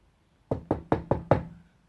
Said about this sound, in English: And there was a knock on the door.